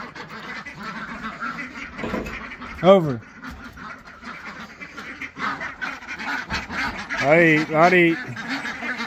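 Ducks quack loudly nearby in a barn in short bursts, one call early and a cluster later, while a person talks over scuffling background noise.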